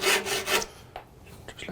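Trimming a wooden plane wedge: a couple of quick, close rasping strokes on wood, followed by fainter scraping.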